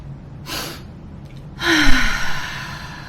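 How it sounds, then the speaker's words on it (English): A breathing exercise for calming the vagus nerve: a sharp nasal inhale, a brief pause, a second sharp inhale, then a longer, audible exhale, close and clear with no talking. "breathe in once, then breathe in again sharply, and then breathe out double as long as you've breathed in."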